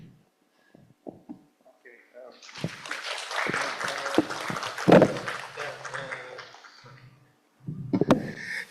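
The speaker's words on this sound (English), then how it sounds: "let's give a very big applause again, to the first group" Audience applause at a hybrid seminar and closing ceremony of a fellowship program, a dense burst of clapping that swells for several seconds, fades, then briefly returns near the end.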